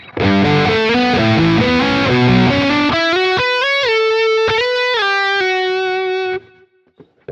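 Heavily distorted, high-gain electric guitar lead riff through a Freeman amp model on a Quad Cortex, thick and loud with held notes and slides, ending abruptly with a short decay.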